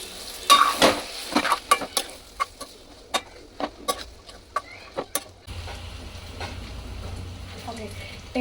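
Maggi noodles frying at home, stirred with a ladle in sharp repeated scraping strokes over a crackling sizzle, then settling into a steady frying hiss; occasional background voice.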